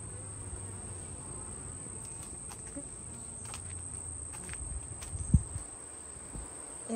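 Honeybees from a swarm buzz in a bee yard as a steady, high, continuous drone with a few faint footsteps and rustles beneath, no talking.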